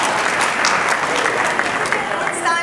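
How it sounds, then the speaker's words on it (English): A crowd applauds at a restaurant awards ceremony, with dense, continuous clapping filling the short moment at steady loudness. "a big round of applause for Sonali"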